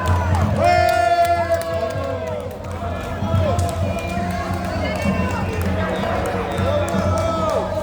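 A crowd cheers and whoops loudly nearby, with raised voices calling out and a close voice talking over the noise.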